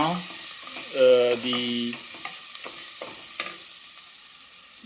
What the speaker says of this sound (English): tadka is getting ready and tomato paste is added